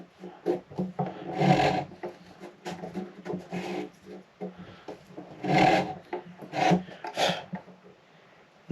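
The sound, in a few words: sanding the neck heel of a guitar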